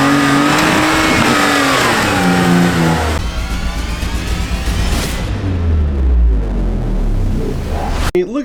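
A Toyota Tacoma truck engine revs loudly up close, rising and falling through a few strong pulls before the sound cuts off abruptly near the end.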